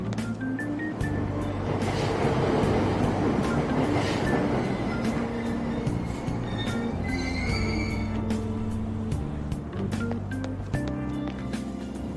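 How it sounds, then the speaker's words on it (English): Subway train in the Persona 5 video game pulling out of an Aoyama Ichome station platform: a steady, loud rumble of rolling wagons with faint clatter and brief high tonal whines over the top, continuous for the whole stretch. "Train doors are now closing. Please stand back."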